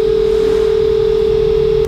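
Two steady pure sine tones at 400 and 440 Hz sound together as a constant, even hum with no pulsing, loud and alone over faint hiss, cutting off abruptly near the end.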